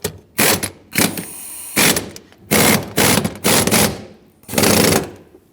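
Bolts being tightened on the front seat of a 2003-2009 Dodge Ram 2500, a series of six sharp, loud ratcheting bursts close up, each about half a second, separated by brief pauses.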